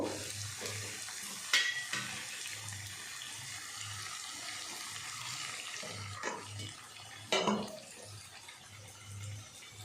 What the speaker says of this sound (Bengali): মশলাটা ভাজা হয়ে গেছে, তো একটু জল দেব।